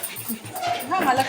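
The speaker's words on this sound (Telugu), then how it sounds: "కుక్క పిల్ల వచ్చింది" A puppy whimpers and yips in short, thin cries close by, with people talking over it.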